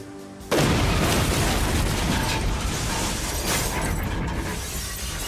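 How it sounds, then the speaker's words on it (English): A loud bombing explosion at the World Trade Center tower, a sudden heavy blast that turns into a sustained, roaring wash of rumble and debris noise lasting several seconds. "The explosion hit the wall of the tower with a massive force"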